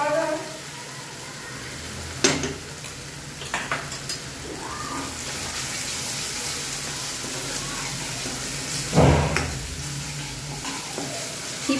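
Ginger-garlic paste frying in a pan over sautéed onions for pav bhaji, a dense continuous sizzle broken by occasional spoon clatters against the pan.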